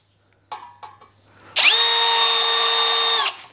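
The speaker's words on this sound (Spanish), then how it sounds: "Si lo hacemos en la marcha lenta" An 18V cordless drill, a Makita replica, runs at slow speed after a few short clicks, spinning up into a loud, steady high-pitched whine that holds for under two seconds before stopping.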